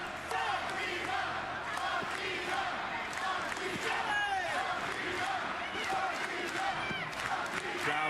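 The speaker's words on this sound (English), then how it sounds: "Crowd rallying behind the challenger." A large arena crowd at a Ring of Honor Final Battle wrestling event cheers and roars continuously for the challenger, loud and dense throughout with no clear speech on top.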